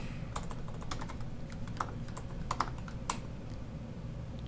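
Fingers type on a computer keyboard nearby, a quick uneven run of light clicking keystrokes over a quiet background, with no talking.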